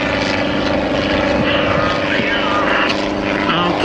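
A yellow propeller airplane roars overhead at an air show, loud and continuous, its engine tone shifting slightly as it passes.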